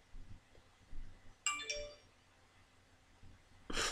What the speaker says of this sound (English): You can always hear somebody's notifications in the background.